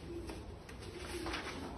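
Racing pigeons from South Africa, including a champion breeding hen, coo softly in a family loft, with a low steady murmur running through the whole stretch over background room noise.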